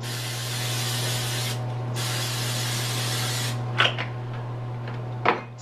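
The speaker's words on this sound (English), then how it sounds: "So this is olive oil cooking spray." Two close bursts of olive oil cooking spray hiss from an aerosol can, a short one and then a longer one after a brief pause, followed by a couple of faint clicks.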